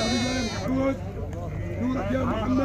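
Sheep bleat repeatedly at an outdoor sheep market in Maarrat Misrin, with lambs and ewes among them. Several drawn-out calls rise over a constant crowd murmur, and people talk throughout.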